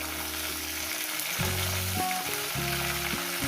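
Vegetables fry in a pan for a Bengali fish curry, a steady broadband sizzle running throughout with a low, tonal hum underneath, close and fairly loud with no talking.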